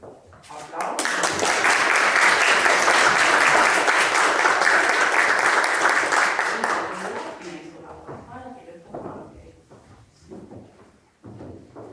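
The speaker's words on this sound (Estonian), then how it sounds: "Aplaus." Audience applauding at an anniversary ceremony, a loud burst of many hands clapping that builds quickly, holds for several seconds, then fades into scattered claps and talking.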